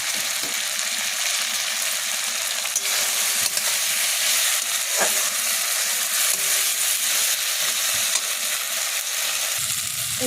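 Badshabhog rice frying with a cooked-down spice paste in a pan, a loud steady sizzle and hiss with occasional stirring scrapes, close and continuous.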